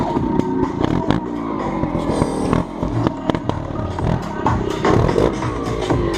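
A trials motorcycle in third gear revs hard and loud at an exhibition, rapid bursts of throttle cracking and snarling close by with scraping clatter between the revs.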